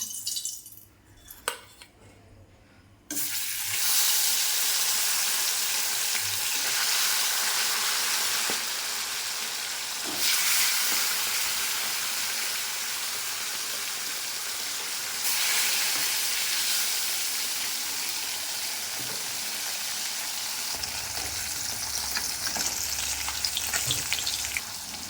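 Loud, steady sizzling of fish frying in hot oil, continuous crackle with occasional spatters, after a brief quieter moment at the start.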